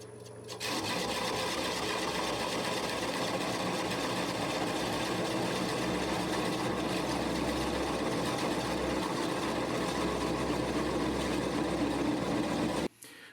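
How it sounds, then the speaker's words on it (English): A wood lathe running at low speed, about 300 RPM, cores green butternut with a ONEWAY Easy-Core system, giving a steady, loud, continuous grinding rasp and motor hum that holds unbroken for over twelve seconds, with no talking. "Got my lathe on the highest torque setting, lowest speed setting is set at 200, actually set at 300 RPM."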